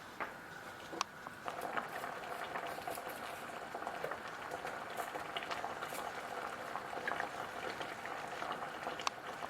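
Chard stalks blanching in a pot of water at a rolling boil, a steady close bubbling and seething with soft pops and patter throughout, no voices.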